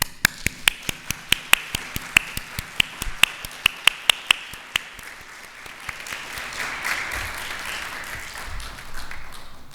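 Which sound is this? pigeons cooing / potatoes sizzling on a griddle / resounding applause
resounding applause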